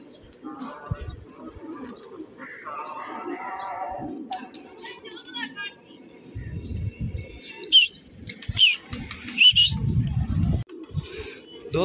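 Racing pigeons coo and chirp nearby in a loft, low gurgling calls mixed with brief chirps, while someone talks over them.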